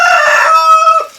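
A rooster crows once, a long drawn-out call with a clear harmonic tone that trails off at the end; no one speaks.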